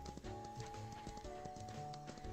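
Hooves of a blue roan horse in the Ranch of Rivershine video game clip-clop in a quick, steady rhythm under continuous game music.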